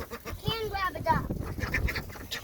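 A duck on a family farm quacks in a short run of nasal calls, fairly close and loud, while children's voices chatter over and around it.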